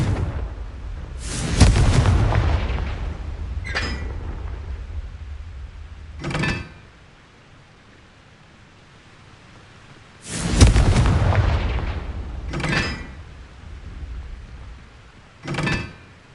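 Confringo spell explosions go off in a Hogwarts video game: two heavy blasts, each with a long rumbling tail, separated by a quiet gap and followed by smaller whooshing magical bursts.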